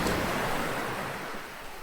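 Ocean surf on the Oregon coast, a broad continuous wash of waves that swells loudly and then eases slightly, with no voices.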